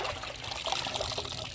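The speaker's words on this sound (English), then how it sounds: "I'm gonna go ahead and soak this sponge in this water." A sponge soaking in a container of water gives soft, close trickling and gentle sloshing that runs continuously at low volume, with no talking.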